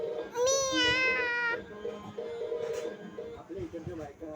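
House cat meowing at home, one loud, drawn-out meow close to the microphone, followed by quieter household sounds and a person talking softly.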